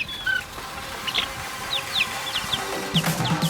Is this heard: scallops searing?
no